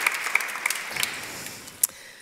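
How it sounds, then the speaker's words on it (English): Brief, fairly faint applause from an audience at an opera premiere talk for Eugen Onegin, a light patter of claps fading within a couple of seconds. "I think we can give them applause"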